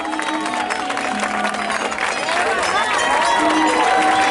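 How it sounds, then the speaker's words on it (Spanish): Audience applause and cheering at a live stage show, a dense steady wash of claps and crowd noise with music or voices mixed in, building slightly louder toward the end. "un fuerte aplauso"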